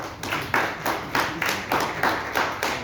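An audience at a book promotion event applauds with steady, rhythmic group clapping. The bursts are evenly spaced and moderately faint, about two per second.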